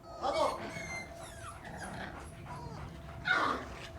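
Puppies whimper and yip in a television drama scene, small high cries rising at the start and again near the end, with quieter murmuring sounds between.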